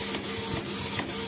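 A Canon IP2770 inkjet printer prints a vinyl sticker with art paper ink, its print head shuttling in a steady mechanical whir with rhythmic clicks and a constant motor hum, close and fairly loud.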